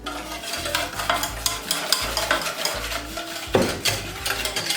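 A brownie batter of cocoa powder is stirred by hand in a saucepan, with steady rhythmic scraping strokes against the pan's bottom and a brief louder knock near the end, no voices.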